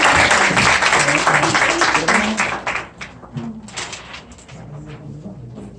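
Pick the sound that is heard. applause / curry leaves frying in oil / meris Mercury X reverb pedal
applause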